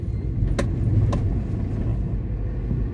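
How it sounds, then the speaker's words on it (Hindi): Road traffic on a Bangalore main road, heard as a steady close rumble of passing vehicles with a couple of brief sharp clinks or rattles. "थोड़ा सा ट्रैफिक है आज,"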